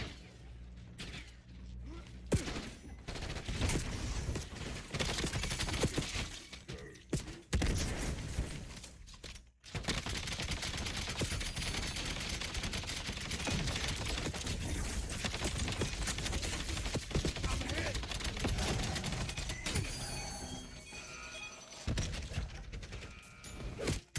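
Dense, continuous video-game gunfire in a Call of Duty Black Ops 7 match, with bursts and mechanical clatter running almost without pause after a brief lull, loud and close throughout.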